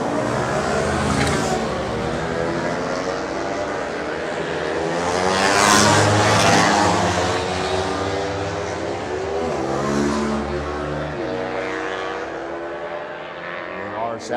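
An R7 racing motorcycle runs on a public road race circuit at the Cookstown 100, its engine note rising and falling as it passes fairly close, with commentary talking over the sound throughout.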